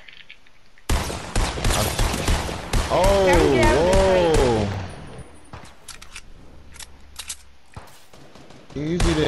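Rapid bursts of gunfire in the video game Fortnite, loud and clustered, with players talking over the shots and a short exclamation partway through.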